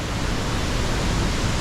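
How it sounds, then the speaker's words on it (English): A waterfall at a temple in Ubud, Bali roars as a loud, constant broadband rush of falling water, heard close at its base with no talking. "Here we are guys at the base of the waterfall."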